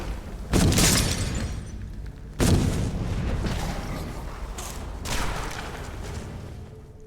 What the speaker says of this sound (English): A fire rune.